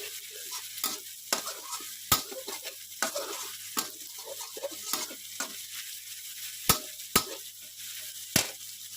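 Garlic and chili frying in a pan for a Thai dish, a steady close sizzle broken by sharp clacks and scrapes of a utensil stirring against the pan, with no voices.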